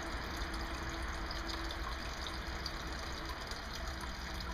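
A water fountain runs on a home balcony, giving a quiet, steady trickle and splash with a faint constant hum underneath, unbroken throughout.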